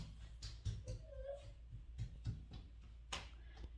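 A pet dog whimpers faintly on a front porch, giving a few thin, high whines near the start over a quiet outdoor background.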